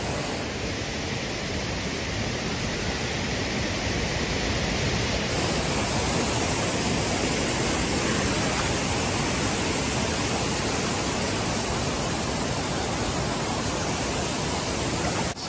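Steady broadband roar of Rutledge Falls in Tennessee, a continuous loud rush of falling water at close range, unbroken and even throughout with no voices over it.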